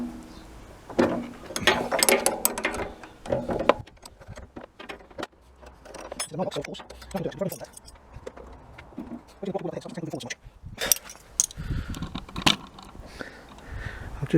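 Ratchet wrench clicking in bursts as it works a 10mm fuel tank bolt loose on a Honda CB1300 motorcycle, close and fairly loud, mixed with handling clatter and brief speech.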